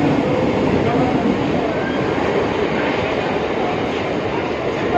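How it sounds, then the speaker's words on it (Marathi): A train runs steadily close by at a terminal station, a continuous broad rumble and rattle of wheels and carriages holding level throughout with no talking. "बघा अजून एक ट्रेन आली आहे."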